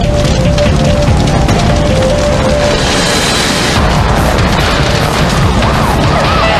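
A burning solvents plant in Des Moines, Iowa, a fully engulfed building, gives off a loud, continuous roar of blasts and crashing fire, saturated and overwhelming throughout with no clear gaps.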